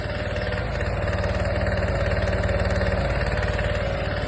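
A heavily loaded engine on a back-EMF energy recovery transformer rig runs steadily and loudly, with a dense, rapid pulsing rumble and no voices.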